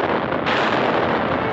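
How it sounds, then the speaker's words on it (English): Heavy booming gunfire from warships in a restored Disney WWII cartoon, a dense, loud roar of blasts with a sharper burst near the middle, continuous and alone with no talk. "Ships protected by the blasting fire of men of war."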